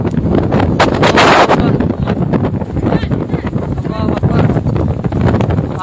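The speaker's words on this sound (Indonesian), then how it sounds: "jadi angin yang sangat kencang sekali" Strong dusty wind blows in Mecca after the maghrib prayer, loud, continuous buffeting rush battering the microphone with gusty surges.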